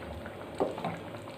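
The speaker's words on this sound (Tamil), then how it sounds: "நல்லா கொதிக்கட்டும்." Soft bubbling and popping of a thick masala mixture for masala poori simmering in a pan, a few louder blips among a steady low hiss.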